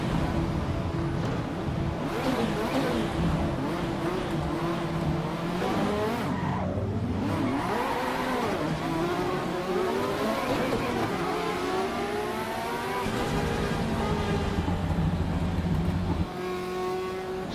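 A Porsche race car in a racing video game at Brands Hatch at night, its engine revving and shifting loudly through gears, with rising and falling pitch sweeps and tyre squeal throughout, nearly continuous and close.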